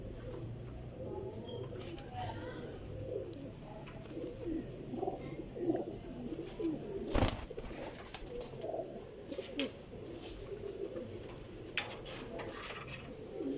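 Pigeons of a Sialkoti and golden cross breed coo softly and intermittently, close by, over a background of low rustling and faint household clatter, with a brief louder knock midway.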